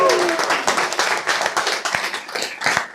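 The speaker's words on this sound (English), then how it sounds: "give all the exes out tonight a round of applause" Comedy club crowd at a stand-up show applauding, a close, lively burst of many hands clapping that tapers slightly toward the end.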